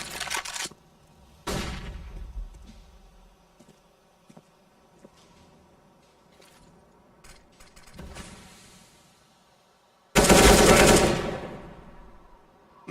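AK rifle fire in Counter-Strike: GO on the Overpass map, loud rapid bursts of automatic shots in a few separate volleys with quieter gaps between them.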